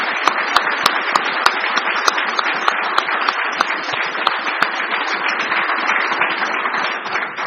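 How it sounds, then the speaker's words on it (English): An audience at a political talk on foreign policy breaks into loud, sustained applause, many hands clapping in a thick steady wash with a few sharp nearby claps standing out, no voices over it. "I'd ask that you give him a round of applause."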